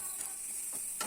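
Grated coconut roasting in a pan gives off a faint, steady sizzling hiss, broken by a few soft scraping strokes as it is stirred.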